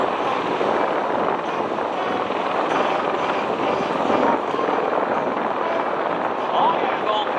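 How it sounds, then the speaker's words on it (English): A Bell Boeing V-22 Osprey tiltrotor of the United States Marine Corps flies past at an outdoor air show, a loud, steady broadband rotor roar with wind noise lasting throughout. "The United States Marine Corps bringing the Osprey."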